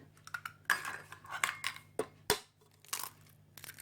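Two eggs cracked for cookie dough in a kitchen, a handful of sharp close taps and cracks with small clinks between them, separated by quiet gaps.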